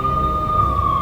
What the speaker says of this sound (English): The NYPD was closing in. I could hear the sirens. Their wail was a crescendo